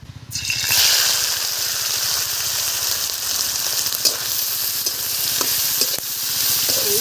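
Prawns dropped into hot salted oil in a wok (kadai) burst into a loud, steady sizzle after a brief quiet start, with occasional spatula scrapes and clicks.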